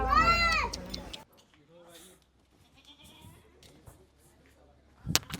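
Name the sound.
goat bleating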